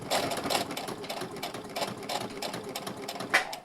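A sewing machine stitches a leather wallet in quick, uneven bursts of mechanical clatter, close and fairly quiet, with no talk.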